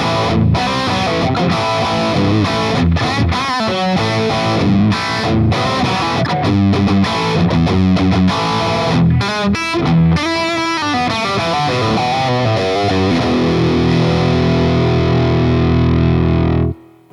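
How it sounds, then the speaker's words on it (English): Distorted electric guitar on the bridge pickup through a Boss Katana amp set to its Brown Sound voicing with a little gain, playing a loud, dense riff with chords and single notes that ends on a sustained ringing chord. "Now I'm going to show it to you on the Brown Sound amplifier with a little bit of gain on it."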